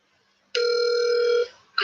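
Telephone call tone: a steady, loud electronic tone holds for about a second, then cuts off before another tone begins.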